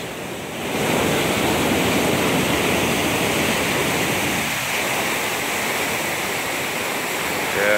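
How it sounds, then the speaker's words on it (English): The Sava Bohinjka river flowing, a steady broad rush of water close by that continues unbroken and fairly loud, with no voices. "and the river is all around"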